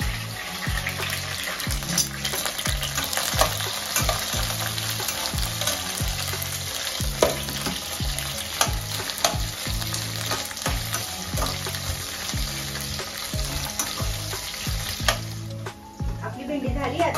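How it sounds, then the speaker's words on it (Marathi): Okra pieces fry in hot oil in a kadhai, a steady close sizzle running throughout with scattered stirring scrapes and clinks, and a brief drop near the end. "आता पहिल्यांदा मी भेंडी याच्यामध्ये थोडी तळून घेते।"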